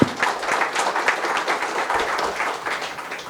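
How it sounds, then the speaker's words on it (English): An audience at a chartered accountants' taxation seminar claps for speaker Sunil Talati, a short close burst of many hands that swells and thins over roughly three seconds. "A big round of applause to him."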